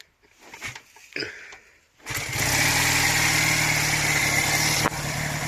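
A Honda CD175 motorcycle engine turns over and catches after a few quiet clicks and fumbles, then settles into a loud, steady, close running idle with a brief dip near the end.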